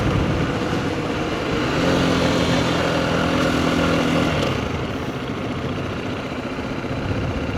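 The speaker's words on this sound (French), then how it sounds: "Si le son de la moto vous gosse, juste à me le laisser savoir" A motorcycle engine idles and rumbles steadily throughout, close and fairly loud, with a brief rise in pitch in the middle before settling back.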